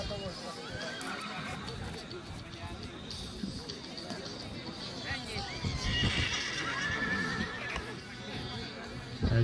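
A native Hungarian Nonius horse at a village festival in Csetény whinnies loudly over crowd babble and hoof clip-clop, with people talking nearby throughout.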